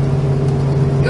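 A 1968 Plymouth GTX engine hums in a steady, low drone from close by, holding an even pitch while cruising along the road at 60 mph for about a second.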